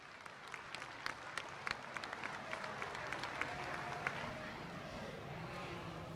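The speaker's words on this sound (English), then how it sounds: "would encourage a round of applause for all these kids" An audience applauds a group of kids at the end of a two-day event, a soft, steady patter of many hands heard from a distance with faint crowd murmur underneath.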